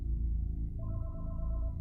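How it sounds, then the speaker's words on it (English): A telephone rings inside a house, a steady repeating electronic trill entering partway through and continuing over a low, dark background hum. "the phone in the house began to ring"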